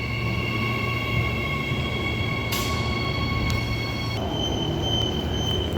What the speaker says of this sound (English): EMU 92 and 113 now departing platform number 1 for a Perth service